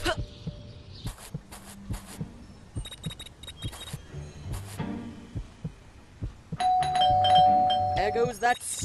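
A doorbell rings in the video game Scary Teacher 3D, with several chimes ringing out amid game sounds, thumping effects and a voice speaking.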